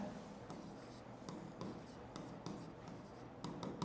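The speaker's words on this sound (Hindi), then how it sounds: "फर्स्ट ऑफ ऑल यहां पर स्टेप्स लिख रहे हैं" Steps being written out by hand make soft, steady scratching and rubbing strokes with faint ticks, heard close up over a constant low background hum and with no one talking.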